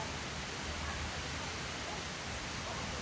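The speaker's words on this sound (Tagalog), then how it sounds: "Maririnig mo lang mga agos ng tubig." Steady rushing water from a stream or waterfall in a natural setting, a dense, even broadband wash that holds constant and fairly close throughout.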